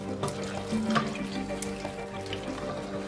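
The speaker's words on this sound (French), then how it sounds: "Je rajoute juste un peu l'eau et un peu d'eau" Water pours from a tap into a pan of tofu and green beans, a steady close splash lasting about three seconds over a faint background hum, with no talking.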